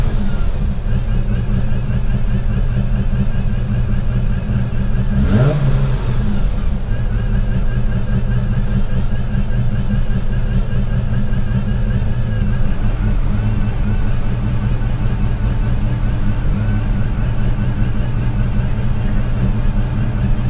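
A Holden VL car engine fitted with a supercharger blower runs loud and close, rumbling steadily with a sharp rev swell partway through before settling back to a throbbing idle.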